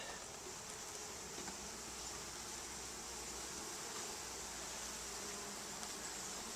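Honeybees from a package, spread out inside a hive, make a faint, continuous buzzing drone that stays even and low throughout, with no voices.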